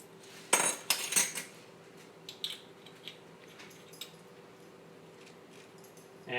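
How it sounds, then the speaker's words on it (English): A whisk clatters against a bowl of eggs, egg yolks and vanilla for pumpkin pie filling, with several quick clinking strokes at first, then sparse faint taps and scrapes. "And this all gets whisked together."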